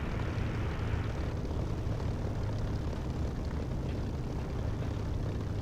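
Steady, unbroken drone of an aircraft engine at idle on a runway in the DCS flight simulator game, loud and close with a low propeller-like rumble and no voices.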